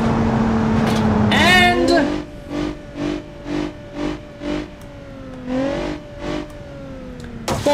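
A powerhouse sedan's engine in BeamNG.drive revs and accelerates with a rising whine, then drones under a voice that talks in short bursts over it.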